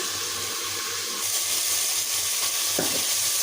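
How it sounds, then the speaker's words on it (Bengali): Mutton and spices frying in oil in a pan, a close, moderate sizzle with stirring and a brief scrape, a soft rhythmic low thumping underneath. "মশলা কষিয়ে নিয়েছি এই যে তেল বেরিয়ে আসছে এখন মাংসগুলো দিয়ে ভালোভাবে কষিয়ে নেব"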